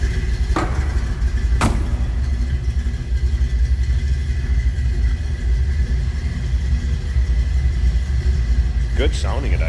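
A 1960 Chevrolet Impala Bubbletop's engine idles steadily with a low, even rumble heard close from the rear of the car, a couple of faint clicks over the continuous drone.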